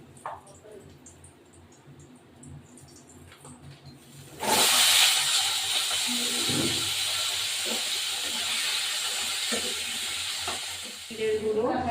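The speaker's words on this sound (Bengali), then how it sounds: "এবার এই আলুগুলো ভাজা হবে" Potatoes hit the hot oil in a pan partway through, setting off a sudden loud, sustained hiss and sizzle that keeps going with occasional stirring knocks.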